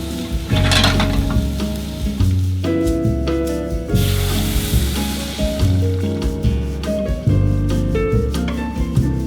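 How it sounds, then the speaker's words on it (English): Rice frying in avocado oil in a pan, a loud close sizzle with repeated stirring and scraping strokes throughout. "fry your rice in some avocado oil"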